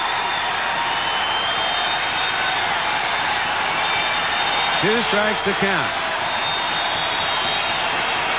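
Broadband roar of a fine night crowd at a Braves at Mets baseball game in New York, steady throughout, with brief swells, a short tonal call near the middle and announcer talk over it.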